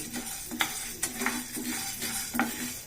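Moringa leaves, peanuts, sesame and coconut are dry-roasted in a pan, with a spoon stirring and scraping in steady, irregular strokes and a soft sizzle underneath, close and fairly quiet.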